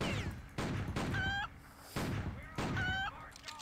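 Chickens in the video game Outlaws + A Handful of Missions squawk and honk, then blow up in loud bursts, two rounds of cackling cries each cut off by an explosion, up close with no talk over them.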